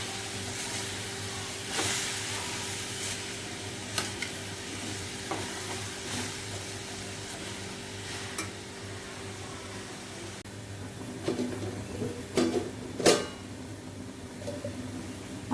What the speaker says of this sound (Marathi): चांगला असा 2 ते 3 मिनिटं गाजर हा परतून घ्यायचा आहे